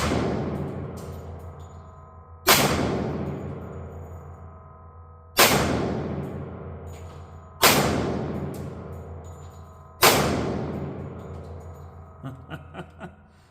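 Four loud, sharp booming shots from a Tisas 10mm pistol with Underwood ammunition, spaced a couple of seconds apart, each ringing out into a long decaying echo, followed by faint clinks of brass at the end.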